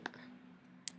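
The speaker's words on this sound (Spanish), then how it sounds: "le doy doble clic para que baje" Two sharp, faint computer mouse clicks about 0.8 seconds apart against a quiet room hum, with no talking.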